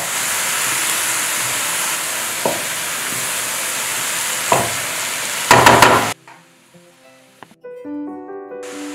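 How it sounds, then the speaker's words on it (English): Cabbage stir-frying in a pan for Trini fried rice, a loud, steady sizzle and hiss with a few clanks, ending in a brief burst before dropping to quieter kitchen sounds. "Now we'll add the cabbage. And only cook it for 1 minute."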